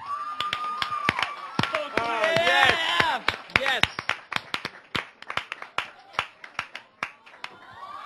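A small group claps in uneven bursts, hands slapping sharply under excited voices and squeals, the claps thinning to scattered single beats.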